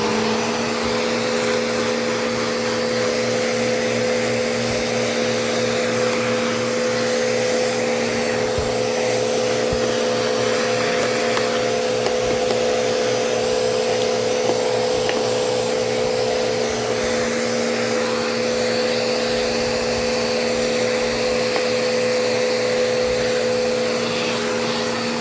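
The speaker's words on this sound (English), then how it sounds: "And then we'll just vacuum it off." A Bissell PowerForce Turbo Pet (3332) vacuum cleaner runs steadily while vacuuming a couch, a loud, constant motor whine with a steady hum and slight variations in airflow as it moves over the fabric.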